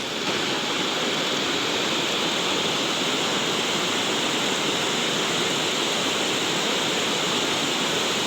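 Swift current of the Batang Anai river surging along, a steady broadband roar of rushing water that holds constant and loud throughout with no voices.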